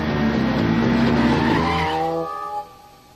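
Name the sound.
cartoon motorcycle racing on a racetrack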